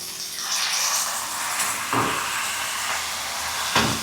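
Water poured into a pan of cooking tomato masala seasoned with Kashmiri red chilli and turmeric, a steady hissing splash with a few louder bursts, close and continuous, with no talking.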